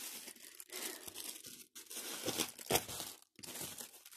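Packaging on a small parcel is torn and crinkled by hand, with several bursts of ripping and rustling plastic separated by brief pauses, close up and without talk.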